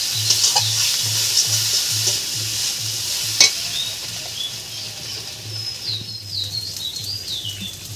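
Masala stirred and frying in a pan gives a steady bright sizzle with soft scraping strokes, a low hum pulsing underneath and one sharp clink midway.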